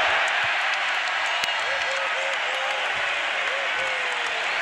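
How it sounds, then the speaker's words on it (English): Big NBA arena crowd at the 2019 Eastern Conference Finals in Toronto roars in a steady, dense wash of noise. Faint whistle-like tones rise and fall inside it, and no voices stand out. "Giannis hearing it from this crowd"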